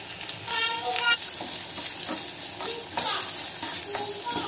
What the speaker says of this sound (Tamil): காஞ்ச மிளகாய் வந்து நான் 3 காஞ்ச மிளகாய் சேர்த்துக்கிறேன்.